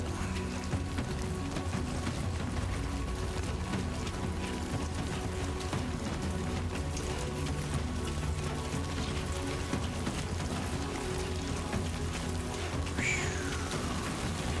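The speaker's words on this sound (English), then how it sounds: "Oh, that rain looks good, man." Steady rain falls continuously in the video game Death Stranding 2, a dense even hiss of drops on surfaces with no talk over it and a brief faint whistle near the end.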